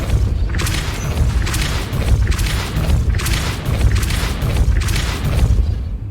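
The Depulso spell, cast repeatedly in Hogwarts Legacy, sets off a run of about six loud, punchy booms at a fairly even pace, each with a crackling, blasting burst.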